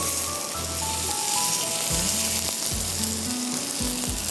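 Onions sizzle loudly on a hot steak platter, a dense, constant hiss with a low rumbling hum beneath it and no speech.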